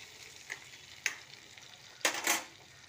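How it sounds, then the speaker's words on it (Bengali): Pumpkin pieces sizzle quietly in a pan, with a few stirring scrapes and clinks breaking through the steady frying hiss. "কুমড়োগুলো একটু ভাজা হোক।"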